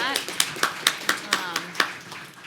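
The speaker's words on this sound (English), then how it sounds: "let's do a whole round of applause" A handful of sharp, evenly spaced claps, about eight in quick steady rhythm, ring out at a comedy talk event while voices carry on underneath.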